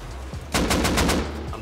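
Gunfire in the video game Rust: a quiet lead-in, then a loud rapid burst of about six close automatic shots in quick succession, with no talk over it.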